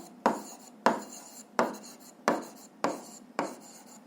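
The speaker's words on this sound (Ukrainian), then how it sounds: "записуємо, що за означенням, так і пишемо, що за означенням" Handwriting during a physics lesson, six evenly spaced pen strokes scratching across the surface about every two-thirds of a second, each a short brisk scrape fading out, close and fairly quiet with no talk.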